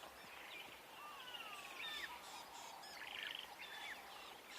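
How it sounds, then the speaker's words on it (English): Several wild birds call at once in a busy chorus of chirps, whistles and harsh rattling notes as a drongo mobs them at sunset on safari, steady and fairly distant over soft ambient hiss. "now the drongo is just getting all the other birds involved. You can hear all the different calls"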